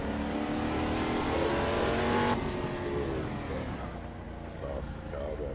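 A Lola race car's engine screams at high revs around the Goodwood circuit in the Assetto Corsa driving game, loud and continuous, its pitch dropping sharply partway through as if shifting or lifting, then droning on.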